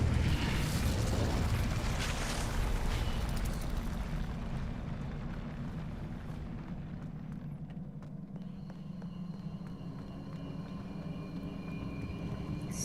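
An Incendio fire spell from a Harry Potter game roars out as a loud rushing whoosh and rumble that slowly fades into a steady low hum, with no talking.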